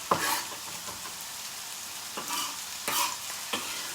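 Chopped garlic sizzles in a hot pan while being stirred, with a steady frying hiss broken by several scraping stir strokes at irregular intervals, close and moderately loud, with no talking.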